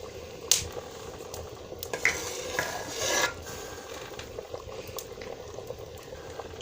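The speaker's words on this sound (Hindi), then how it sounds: "और चावल बॉयल होने तक हम इसको पकाएंगे" Rice boiling in a pot, a steady low bubbling simmer with a few sharp clinks of a spoon against the pot and a brief scraping rustle, no voices.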